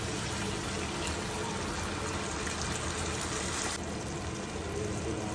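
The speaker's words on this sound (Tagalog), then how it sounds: "Lagyan natin ng tubig." Water pouring steadily into a pan of steaming halibut with oyster sauce and soy sauce, a constant rushing splash that drops off slightly near the end, faint and continuous.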